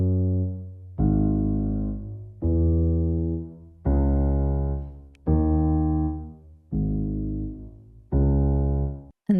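A piano layer played in a very low octave sounds alone, with seven deep sustained chords struck at a slow, steady pace, each ringing and fading before the next.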